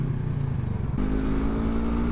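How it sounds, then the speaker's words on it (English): A moped motor running nearby, a steady low engine drone that shifts and grows slightly louder midway as it passes, with no speech. "Oh, moped guy's back there."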